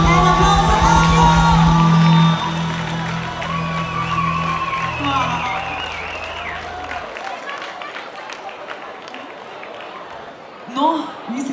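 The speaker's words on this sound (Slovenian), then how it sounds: "En aplavz" An audience at a local singing performance in Dravograd applauds and cheers after a song, starting loud with clapping and whoops that thin out over several seconds, with a presenter talking over it.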